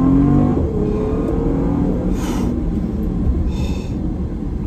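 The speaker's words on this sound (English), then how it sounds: "being able to accelerate hard in the Bentley W12" Bentley Flying Spur W12 engine accelerating hard, a deep loud drone with a rising tone that settles into a steady roar under some brief road hiss.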